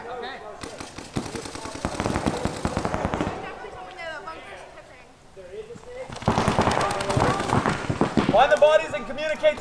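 Paintball markers fire in rapid bursts during a three-versus-three island paintball drill outdoors, with dense clusters of sharp pops at the start and again toward the end while players shout to each other.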